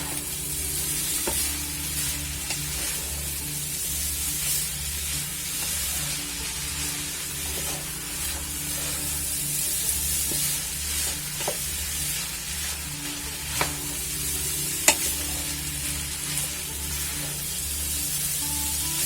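Fried rice is stir-fried on a hot griddle in a Chinese home kitchen, with steady sizzling and frying running throughout and repeated scraping and stirring strokes, close and continuous, occasionally punctuated by a sharper clack of the utensil.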